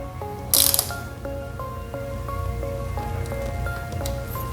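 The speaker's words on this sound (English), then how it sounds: "just tighten that bolt back up and we'll be done tightening down the handlebar" A ratchet wrench tightening a handlebar bolt on a Suzuki GSX-R motorcycle, a short burst of clicking pawl strokes repeating in quick rhythmic pulls, close and clear, with a brief sharp clatter near the start.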